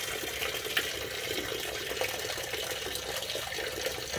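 Coolant splashes and gushes steadily from the oil filter housing of a 2010 Ford F150 with the 4.6 3V engine, a continuous fairly faint liquid spatter with no talk.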